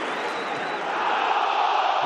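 Football stadium crowd at a Championship play-off semi-final between Nottingham Forest and Blackpool, a broad sustained roar that swells louder toward the end, distant and dense, with no clear talk over it.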